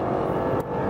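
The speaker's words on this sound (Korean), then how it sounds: "가속을 하니까 엔진 사운드가 확실히 좀 다르네요." A Renault Samsung SM6 2.0-litre sedan engine drones loudly and close for a brief moment while accelerating out of a corner, a steady rising hum with a slight dip near the end.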